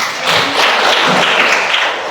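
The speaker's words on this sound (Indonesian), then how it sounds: "Ya, tepuk tangan." A small group in a classroom or teaching session gives a short burst of dense, even clapping, close and fairly loud, that fades slightly at the end.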